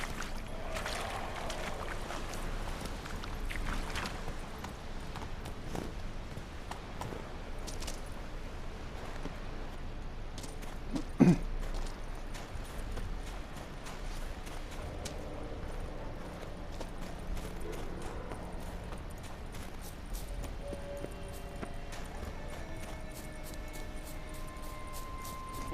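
Hoofbeats of the horse Roach galloping in The Witcher 3, a steady rhythmic clip-clop running throughout at moderate volume with faint ambient game sounds and occasional effects.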